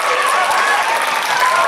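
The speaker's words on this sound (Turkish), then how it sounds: "ve seyircisi alkışlıyor Ege Üniversitesi seyircisi" Ege University spectators applauding at a championship football match, dense sustained clapping from a large crowd, loud and continuous with no voices standing out.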